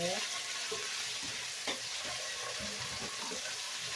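Potatoes sizzle steadily in hot olive oil in a pan, a bright, continuous frying hiss with a few soft stirring knocks and scrapes close by.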